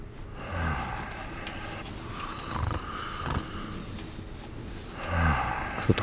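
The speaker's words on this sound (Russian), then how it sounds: "Кто-то храпит." A sleeping guard snores inside the stealth video game Thief, with slow, low rasping breaths at about 0.6, 2.6 and 5.2 seconds against a steady ambient game background.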